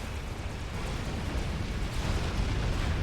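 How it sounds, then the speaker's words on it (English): Artillery shells exploding in the real-time strategy game Supreme Commander: Forged Alliance: a loud, continuous rumbling roar of overlapping blasts, dense and heavy in the low end, with no pauses. "Yeah, eat those artillery shells."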